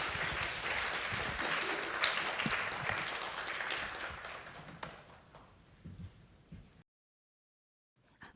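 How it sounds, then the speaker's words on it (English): An audience at an EU-Japan subnational climate action workshop gives dense, sustained applause that thins into scattered claps and stops abruptly into silence, followed by a brief faint sound at the end. "give a huge round of applause to the both wonderful speakers"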